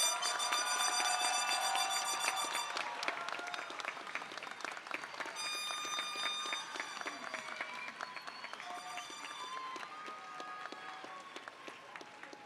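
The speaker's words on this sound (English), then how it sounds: "Now let's give the class of 2023 a big round of applause." Applause for the graduating class of 2023 at a high school commencement ceremony, a steady crowd clapping over a bright sustained tonal sound, gradually fading over about twelve seconds.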